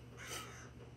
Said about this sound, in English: you can hear my crow buddy